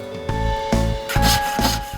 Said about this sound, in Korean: 톱날로 깎아내 거친 표면을 다듬고 다시 톱질하기를 수차례.